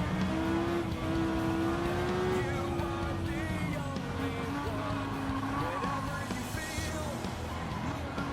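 Sustained engine drone of a car being driven in Gran Turismo 7, a loud steady tone that rises and shifts pitch, with someone talking over it throughout.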